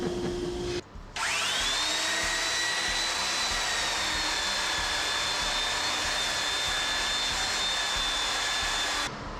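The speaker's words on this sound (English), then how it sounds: "I'm using the belt sander, so I've got the Gasman air filter running in the background." A belt sander smooths table-saw-cut edges, with a Gasman air filter running, producing a loud, steady high whine that holds almost unbroken for about eight seconds after a brief pause near the start.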